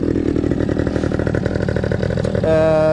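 A quad bike engine runs steadily and loud, its tone rising sharply into a rev near the end, with no talking over it.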